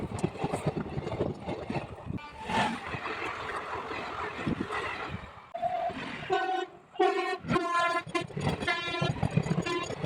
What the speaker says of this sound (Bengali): তিন নম্বর লাইন দিয়ে বেরিয়ে যাচ্ছে একটি এক্সপ্রেস ট্রেন